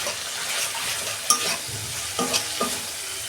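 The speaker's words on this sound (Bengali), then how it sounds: "ভালো করে আমি আর 2 মিনিট কষাবো, যতক্ষণ না তেল ছাড়ে।" Spice masala of cumin, coriander and chili powder fries in oil for a fish curry, giving a soft continuous sizzle with a few sharp metallic clinks and scrapes of a stirring spoon, close and without speech.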